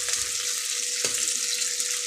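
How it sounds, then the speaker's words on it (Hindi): Onions frying in a pan on a stove at home, a continuous hissing sizzle that stays steady and fairly loud with a brief clatter partway through. "तो लगभग हमारा प्याज भुजा रहा है, आधा भुजा गया है।"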